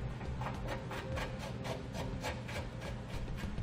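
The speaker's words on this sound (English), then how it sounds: "In this case, I'm just using a simple tube brush, and this is part number 814092." A simple tube brush scrubs rhythmically inside the bolt threads of a 2014 Toyota vehicle frame, a steady run of quick, close rasping strokes heard alone.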